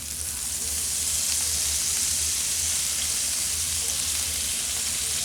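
Garlic sautés in a hot pan with lemon, giving a steady, dense sizzle and crackle that holds at an even level throughout, with no talking.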